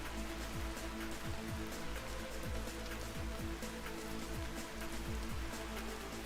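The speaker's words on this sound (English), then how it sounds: "I could do without the rain. The rain's going to muffle out any potential buzzing noise." Steady rain falls in the Vintage Story video game, a dense, even patter throughout with faint low thumps underneath, no voices.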